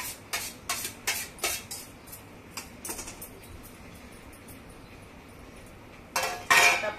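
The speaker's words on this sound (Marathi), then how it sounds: "आता आपण सर्व चांगलं मिक्स करून घेऊया।" A spoon clinks and scrapes against a metal bowl while moong dal dosa batter with chopped coriander is mixed, a run of quick rhythmic taps at first, then quieter stirring and a louder final burst of clatter.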